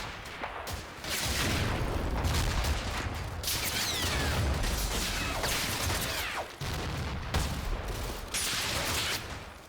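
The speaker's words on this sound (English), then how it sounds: "give my mortars time to finish plastering the trench at the top of the cliff, this time using direct fire target orders" Mortar shells pound a clifftop trench in the wargame Combat Mission: Fortress Italy, a dense, loud barrage of booming impacts and crackling gunfire with sharp breaks between waves.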